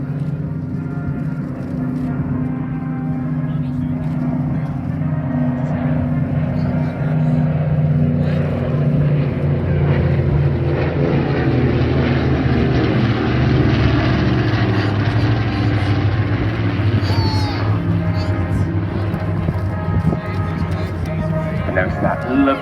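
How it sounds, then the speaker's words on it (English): Dakota, Hurricane and Spitfire propeller aircraft fly past in formation at the Southport Airshow 2019, producing a loud, steady engine drone that fills the whole stretch. "Here we can see Dakota in formation with a Hurricane and the Spitfire giving a big wave as they come through"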